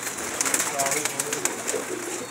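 Pigeons coo softly inside a loft in a brief, close burst of overlapping low calls. Faint chirps and people's talk run underneath.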